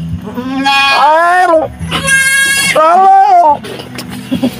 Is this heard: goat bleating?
yes